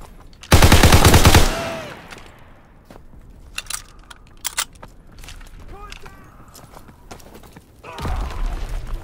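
A loud burst of rapid automatic gunfire in a WW2 shooter game opens, followed by scattered clicks and mechanical clatter, then another volley of shots near the end.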